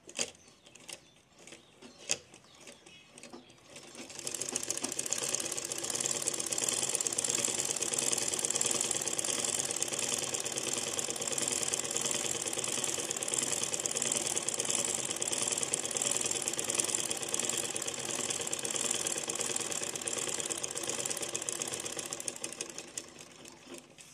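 Sewing machine stitching designer blouse pieces together, a few brief clicks and starts giving way to a steady, rapid mechanical whir that runs continuously for about twenty seconds, close and fairly even in loudness.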